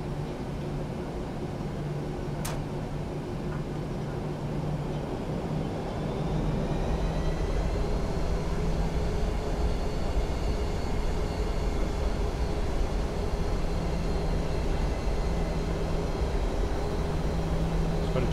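Steady engine hum and broadband rush of a PMDG Boeing 737NG taxiing in a flight simulator, continuous and even, with a faint whine of turbines rising slightly partway through and no talking.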